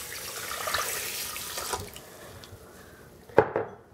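Water from a tap running and splashing into a rice cooker pot holding rice, a close, hissing stream that tapers off before a brief clink and splash near the end, with no talk.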